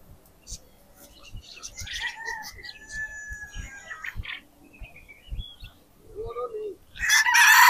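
At a market in Kuwait, chickens cluck and a rooster crows among caged fowl, with scattered chirps and a loud burst of crowing near the end over a low background.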